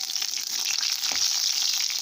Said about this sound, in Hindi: जीरा और कड़ी पत्ता तड़कने लगा है